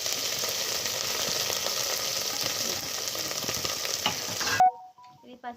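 Onion, ginger-garlic paste and turmeric frying in oil in a pan for chicken curry, a loud continuous sizzle with scraping stirring strokes, ending abruptly in near silence with a few faint clinks.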